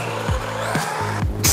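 A small remote-control car driving fast indoors and drifting, with repeated short motor whines rising and falling and a sharp tire squeal near the end, loud and close.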